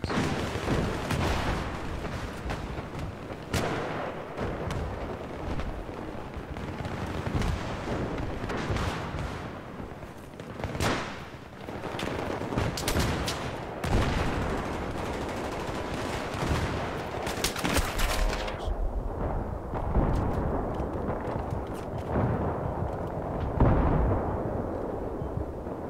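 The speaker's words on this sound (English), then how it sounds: "This guy's shooting through the fucking wall." Continuous Battlefield 3 combat on Damavand Peak, with dense rifle fire and heavy explosions booming and crackling at close range, thinning out near the end.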